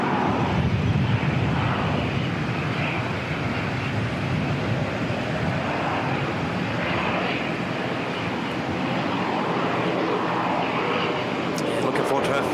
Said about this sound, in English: First 777 departure, but NZ121 to Melbourne, just taxiing out.